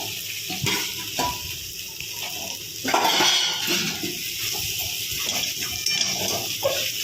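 Fried pointed gourd goes into a pan with spices and coconut powder and gets stirred, giving a steady sizzle and fry along with repeated scrapes and clinks of a utensil against the pan.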